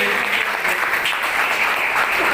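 An assembled community audience at a New Delhi awards gathering claps loudly in welcome, a dense, continuous burst of applause with no pauses.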